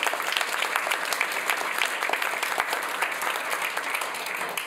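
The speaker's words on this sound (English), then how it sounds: "I think we could give a big round of applause to these reports." A conference audience gives a sustained round of applause, many hands clapping close and steady at a fairly even loudness, with no talk over it.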